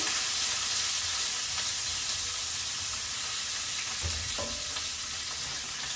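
Onion browning in hot oil for gravy chicken wings, a loud continuous sizzle and crackle close by, steady throughout with a brief clatter near the end and no talking.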